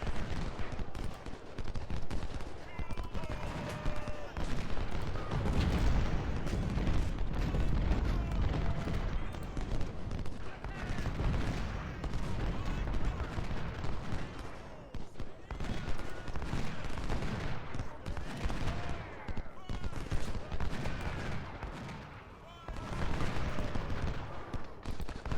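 Dense, continuous battle fire in the Ultimate General Civil War game: 20-pounder artillery booms amid rolling musket volleys and crackling gunfire, loud and unbroken throughout.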